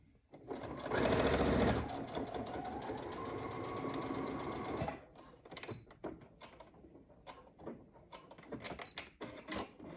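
A sewing machine runs a straight stitch on a fabric mask: a loud continuous mechanical whir for about four seconds, then stops, followed by scattered clicks and handling sounds.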